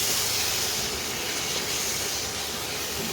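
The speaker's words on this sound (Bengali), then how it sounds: "এইবার ভালো করে মশলাটাকে কষাতে হবে।" Masala with chilli powder sautéing in a pan gives off a steady, close sizzling hiss that holds level and unbroken, with no voices.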